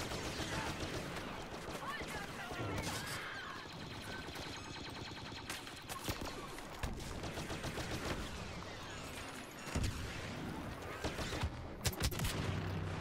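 Rapid bursts of blaster fire crackle through a busy Star Wars Battlefront multiplayer match featuring Luke Skywalker, overlapping dense game noise with a voice mixed in throughout.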